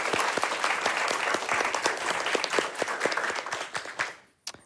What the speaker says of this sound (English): Round of applause for content team.